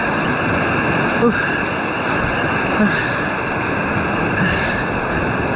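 Sea surf at a rocky fishing spot in Salé, Morocco, a steady, continuous roar of waves washing ashore, close and fairly loud, with no distinct breaks and no clear talk.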